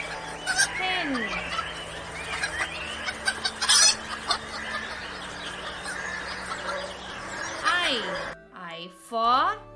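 Hens cluck and squawk repeatedly over a busy farmyard background, with a rooster-like call and a voice speaking briefly near the end.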